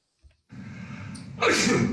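A single sharp sneeze bursts out after a brief intake of breath, close and loud, with a hissing spray at the end.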